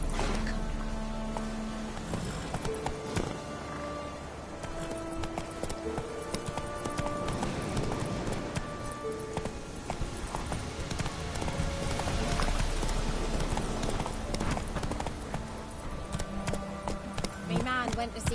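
Roach, the horse in The Witcher 3, gallops with rhythmic clip-clopping hooves throughout, set against game music and ambience, with someone talking over much of it.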